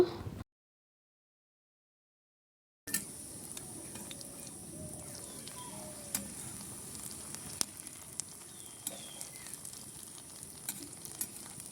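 Banana flower fritters sizzle and crackle steadily in hot oil, a soft continuous frying hiss with occasional pops, after a brief silent gap at the start.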